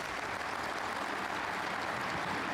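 A snooker crowd at the German Masters applauds a shot with steady, dense clapping that holds at an even level throughout.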